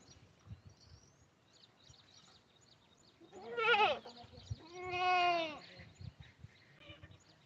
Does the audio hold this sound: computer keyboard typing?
no